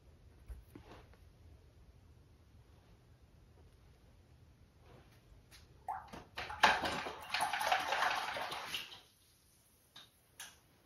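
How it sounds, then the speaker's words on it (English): A paintbrush rinsed in a water jar during acrylic landscape painting: a few faint taps at first, then a loud, close burst of swishing and splashing for a few seconds before it settles back to quiet. "just rinsing my brush out"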